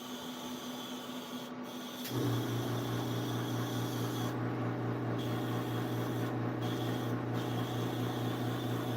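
An airbrush compressor for painting skin tones kicks on after a brief quiet stretch, settling into a steady, close mechanical hum with a faint hiss layered above it.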